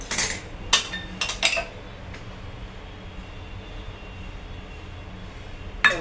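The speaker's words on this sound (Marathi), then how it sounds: "प्रथम कढई ठेवायची" A wok is set down on the stove with a few sharp metallic clanks near the start, then a quiet room hum remains, with one more faint clank at the very end.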